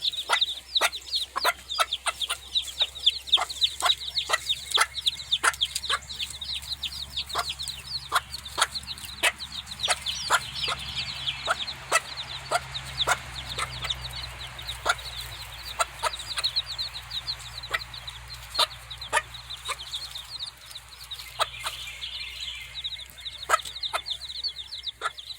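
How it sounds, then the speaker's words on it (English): Backyard chickens cluck steadily and close by while beehive frames are worked nearby, sharp repeated calls over a soft continuous hum, with no talking. "Happy chickens."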